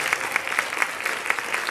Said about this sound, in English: So just a round of applause for those students who participated.